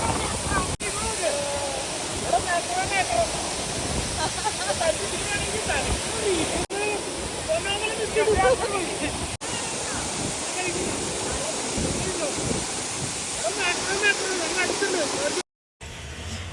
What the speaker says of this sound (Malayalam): ആ സ്ഥലത്ത് നല്ല ഫോഴ്സിലാണ് വെള്ളം വന്ന് വീഴുന്നത്.